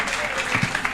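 A church congregation claps in applause during a Kenyan worship service led by an apostle, a steady dense patter of hands filling the space with no break.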